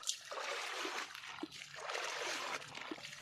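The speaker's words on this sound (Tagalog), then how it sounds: "Binabanlawan na po yan ng tubig tabang." Dried tamban fish rinsed in fresh water in buckets and basins, with continuous splashing and trickling water sloshing steadily throughout, fairly close and moderately loud, with no talk.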